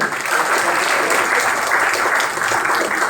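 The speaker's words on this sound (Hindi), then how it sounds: "एक बार जोरदार तालियां" Loud, dense applause from a crowd at a Congress party political rally in Wazirpur, sustained steadily across the whole moment with no pauses.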